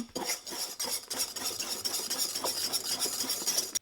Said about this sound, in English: Add some extracted vanilla. Now whisk it.